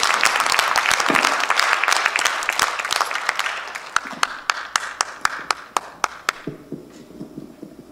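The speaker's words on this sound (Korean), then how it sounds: "우리 하나님께 큰 박수 한번 올려드립니다" Big round of applause from a church congregation at a Korean evening worship service, dense and loud at first, then thinning into a few separate, distinct claps that fade out.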